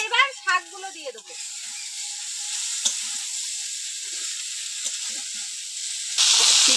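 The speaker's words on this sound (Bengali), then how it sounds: "এবার শাকগুলো দিয়ে দেবো" Note shak greens hit a hot pan of oil already frying with dried red chilli, chopped garlic and onion; a steady, fairly close sizzle runs throughout and swells into a louder hiss near the end, with a brief voice-like sound at the start.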